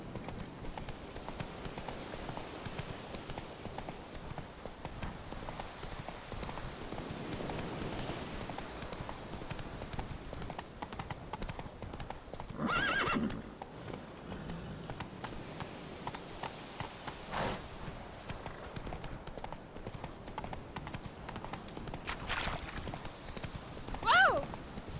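Horse hooves clip-clopping at a steady gallop in The Witcher 3, a continuous rhythmic patter with a brief whinny-like burst near the end; someone speaks briefly over the hoofbeats.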